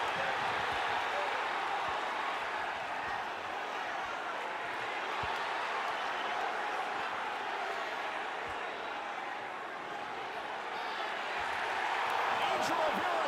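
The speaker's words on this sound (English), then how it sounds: "The crowd wants it." A large college wrestling crowd at Iowa roars in sustained, dense cheering and applause throughout as Spencer Lee works toward a fall against Oklahoma State, with the noise swelling near the end and a commentator speaking underneath.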